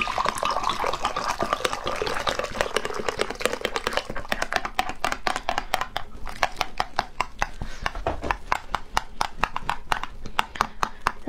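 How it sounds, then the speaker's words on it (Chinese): Boiling water at 100 degrees poured into a drink mix, a hissing, gushing stream for several seconds, followed by rapid, rhythmic clinking of fast stirring. "然后再来热水，一定是 100度烧开的热水啊。"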